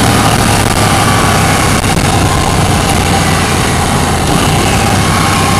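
A KTM 790 motorcycle engine holds steady at about 4,000 RPM. The drone is loud, close and constant throughout, with broadband roar and no pauses.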